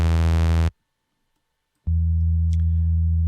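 Massive synthesizer oscillator in Formant mode playing a sine wave, a loud steady buzzy tone rich in harmonics that cuts out for about a second, then returns and sustains, with no talking.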